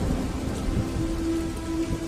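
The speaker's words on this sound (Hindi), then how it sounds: "और अचानक से बारिश तेज बरसने लगती है" Heavy rain pours steadily with a low rumble of thunder rolling underneath, a dense continuous wash of sound with no voices.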